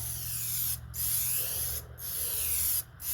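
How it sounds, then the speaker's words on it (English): Piano Black HyperDip is sprayed heavily from an aerosol onto the plastic body cladding of a 2004 Saturn VUE, a close, loud continuous hiss broken by three short pauses between passes. "when I'm spraying heavy like this"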